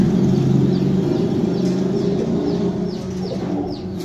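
Golden pigeons kept as breeding pairs at a bird market coo steadily in a low, continuous murmur close by, with faint chirps from other birds above and no talking.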